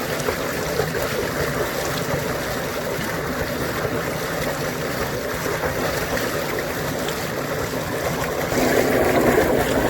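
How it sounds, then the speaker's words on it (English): Water drains from swimming pool plumbing lines as a pool is closed, a steady close rushing trickle that carries on without a break and grows louder in the last second or two. "I'm just going to let all the water come out of the lines before I get in there."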